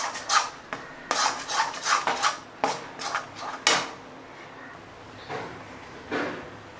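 A metal spoon stirs cluster beans chutney mixture in a cooking pan, producing repeated close scraping and clanking strokes in a loose rhythm, louder at first and then softer.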